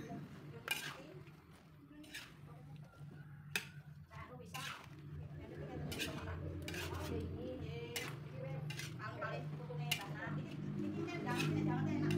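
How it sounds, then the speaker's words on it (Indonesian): Cabbage and spring onions are stirred in a pan, with metal utensil clinks and scrapes repeating at an uneven pace under a low background hum and quiet speech. "Kita aduk agar terjadi pemerataan rasa dan juga kematangan ya"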